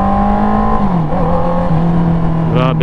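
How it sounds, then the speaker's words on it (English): Honda CB650R motorcycle with a remapped, reflashed muffler, its exhaust droning loud and close in a steady roar, the pitch dipping briefly and then holding before a faint rise at the end. "Grabe lakas ng muffler niya."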